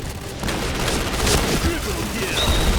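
Gunfire in the online shooter Point Blank comes as a dense, loud barrage of rapid shots and blasts, with a voice talking over the top of the fight.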